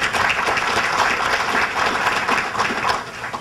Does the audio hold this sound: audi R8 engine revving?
no